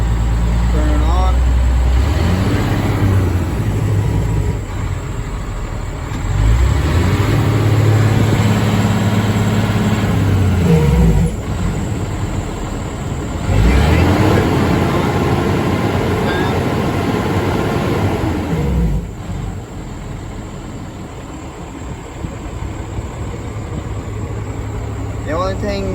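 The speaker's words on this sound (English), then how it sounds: "The engine brake button, turn it on." Engine brake on an International truck with a C12 Cat diesel engine, a loud rumbling, repeated deep drone that surges in several bursts over nearly half a minute, heard close from the cab.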